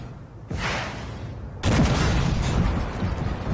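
Tank cannon fire in the Armored Warfare game: two heavy booming blasts, the second louder, each followed by a rumbling, rattling tail of mechanical and battlefield noise.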